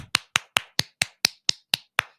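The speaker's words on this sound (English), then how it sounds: "We're gonna clap for me anyways." Hands clapping: nine crisp, close claps at a steady quick pace, each sharp and evenly spaced, with nothing else heard.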